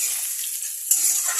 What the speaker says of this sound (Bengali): পেঁয়াজ কুচির সঙ্গে আমি আলুগুলো ছেড়ে দেবো, তাহলে একসাথে ভাজা হয়ে যাবে।